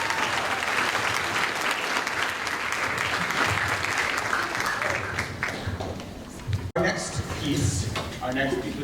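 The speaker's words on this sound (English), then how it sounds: "can we give one more huge hand to Carmen?" Sustained audience applause at a high school Day of Remembrance concert, a dense steady clatter of many hands filling a large hall that dips briefly near the end before resuming.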